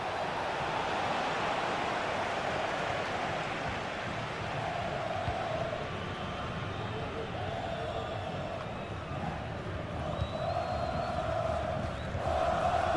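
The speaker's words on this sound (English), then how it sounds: "The crowd certainly think so. Just listen to them." A stadium crowd roars steadily in a football video game, a dense, continuous wash of cheering that swells slightly toward the end.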